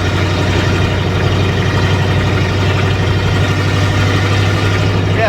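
An old Chevy truck engine, revived after 20 years parked in the desert, idles with a steady low rumble, continuous and loud, an even throbbing drone with no voices over it.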